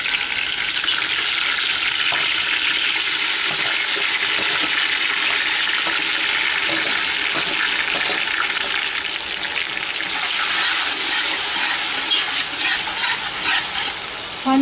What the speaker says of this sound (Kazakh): Помидорды где-то 10-15 минут қуырамыз, на суы кеуіп кеткенше.